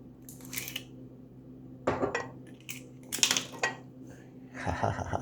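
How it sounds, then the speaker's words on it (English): One-handed fumbling to uncap a Crystal hot sauce bottle in a home kitchen, several short clicky plastic and glass clacks in irregular bursts, close and fairly quiet, with a low background hum. "Trying to uncap a bottle with one hand."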